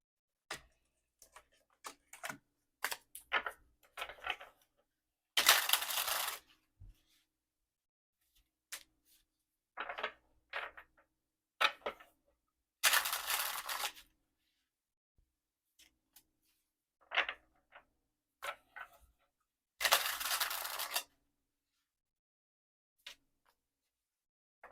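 Playing cards are shuffled in quiet bursts of rapid riffling, with soft flicks and taps between, separated by silent pauses; three longer, louder riffles stand out among the shorter handling sounds.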